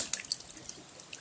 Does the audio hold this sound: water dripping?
yes